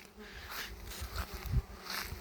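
Honeybees buzzing at apiary hives in a loud, swarm-like drone with passing bees zooming close to the microphone.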